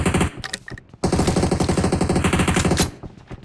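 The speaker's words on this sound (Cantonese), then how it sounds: "企喺我哋後邊人開槍" Automatic gunfire rattles in an esports shooter match final: a short choppy burst, a brief pause, then a long sustained rapid-fire stream that cuts off and trails into faint echoes.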